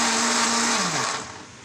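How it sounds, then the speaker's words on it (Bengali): Loud electric blender motor churning ripe mango juice, a steady high whine that drops in pitch as the machine is switched off and spins down to quiet. "দেখতে পাচ্ছেন ভালোভাবে ব্লেন্ডার করছি আমি জুসটা।"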